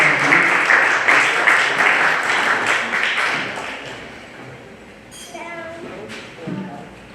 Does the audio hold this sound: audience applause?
yes